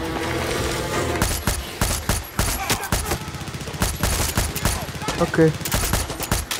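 Rapid bursts of automatic gunfire and single shots crackle continuously through a firefight in the video game Far Cry 6, loud and dense, with someone briefly speaking over the shooting.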